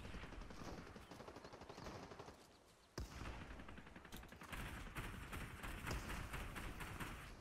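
Rapid automatic gunfire in the video game Fortnite, dense bursts of shots rattling almost continuously, with a brief lull then a sharp crack before the firing resumes, loud and close.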